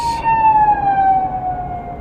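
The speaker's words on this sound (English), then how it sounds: "Yeah, I say that as an ambulance passes me." An ambulance siren wails loud and close, its pitch sliding steadily lower as the vehicle passes, over a low rumble of road noise.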